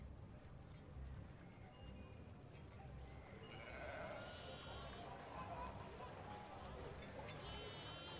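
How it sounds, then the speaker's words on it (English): Goats and sheep bleat at a homestead, several faint calls rising over a steady low rumble of background noise, with a murmur of voices underneath. "I hear goats and sheep."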